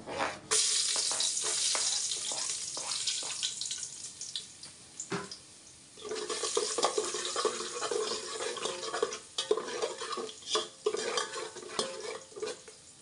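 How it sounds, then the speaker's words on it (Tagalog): Garlic sizzles in a hot cooking pot at the start of a corned beef soup, with continuous frying hiss and sharp scraping and stirring clatters throughout; a brief lull near the middle before the sizzle swells again, no talk. "Ilagay po na natin ang bawang."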